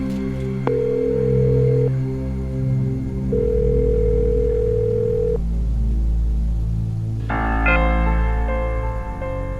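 A telephone line on a call that nobody picks up, steady tones repeating over a low continuous hum.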